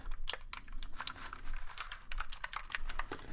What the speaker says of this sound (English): we're going to begin with some very satisfying clicky sounds from our very compact keyboard here